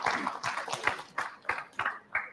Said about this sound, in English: Can you give a round of applause to the panelists?